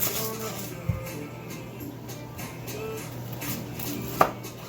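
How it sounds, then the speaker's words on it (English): Steady knife chopping of a red onion on a cutting board, rhythmic taps with a couple of sharper knocks, over a low background hum. "Just cutting up a red onion here."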